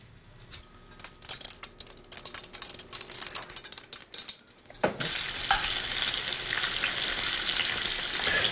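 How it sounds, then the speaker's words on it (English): A peppercorn-crusted tuna steak is laid into a hot pan and sears with a loud, steady, crackling sizzle that lasts to the end, after a few seconds of light kitchen clatter. "Now the key here is to just sear the outer surface of the tuna and the peppercorns."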